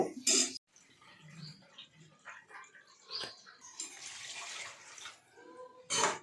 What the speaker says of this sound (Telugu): ఇంకొక కప్పు వాటర్ యాడ్ చేసుకుందాం.